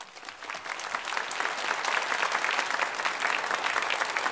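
A church congregation claps in welcome for visiting missionaries during a Sunday worship service, a dense, steady round of applause filling the room for a few seconds.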